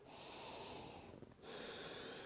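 Close breathing during a vinyasa yoga pose: a long airy exhale, a short pause, then another steady breath, soft and near.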